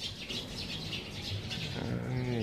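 Birds chirp near a riverside house among trees, with quick high tweets repeating over a steady outdoor wash of wind and background noise.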